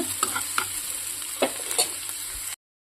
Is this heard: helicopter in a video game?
no